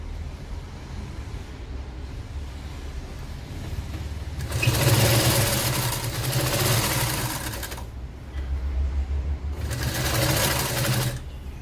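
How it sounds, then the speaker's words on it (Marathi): A sewing machine stitches a border onto the long side of Gudi cloth at home, running in two loud sustained bursts of close, rapid mechanical whirring separated by a quieter pause. "आता हे शिवून दाखवते मी तुम्हाला की हे शिवायचं कसं आहे"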